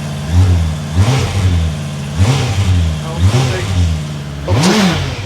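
Honda CBR650R motorcycle engine revved repeatedly to about 3,000 rpm, four rising blips in a steady rhythm over a close idle, with a voice briefly in the background.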